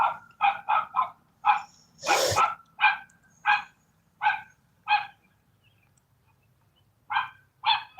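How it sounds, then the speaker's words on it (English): A dog barks from some distance at a fishing spot, a string of clear, evenly spaced barks, then a short pause before more barking resumes, with no voices over it. "There's a noisy dog over there barking."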